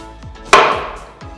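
A knife strikes a cutting board while slicing capsicum into thin strips or small pieces, with one sharp, loud chop and a few lighter taps around it.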